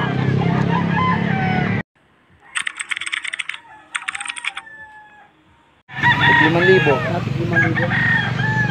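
Chickens cluck and a rooster crows in short bursts in Pampanga, Philippines, with a pause between them, set apart from louder stretches of talk before and after.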